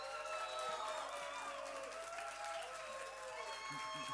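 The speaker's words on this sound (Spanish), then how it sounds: "Un aplauso para él, vamos." An audience applauds and cheers for Jorge Díaz as he takes the stage for a master class, a steady dense wash of clapping throughout with a faint tonal hum beneath.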